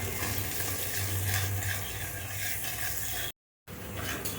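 Chopped onion frying in a pan with salt and turmeric, a continuous close sizzle with light stirring scrapes and a low hum beneath, cut off by a brief silent gap near the end.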